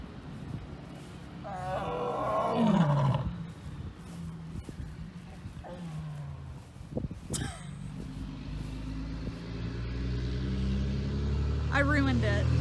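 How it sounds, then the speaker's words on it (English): A lioness at an animal sanctuary roars in long, low moaning calls that rise and fade over several seconds, heard at moderate distance beneath someone talking nearby. "She started to roar"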